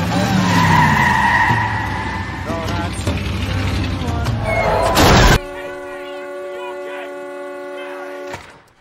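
Car tires squeal in a long, loud skid during a night-time crash scene in the film Remember the Titans, the screech building for several seconds before cutting to a sustained tonal score.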